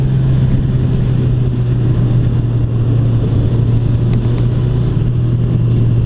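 A 2016 Suzuki GSX-R1000 sportbike engine-brakes while slowing from highway speed, giving a loud, steady low drone mixed with heavy wind rush, close on board and continuous.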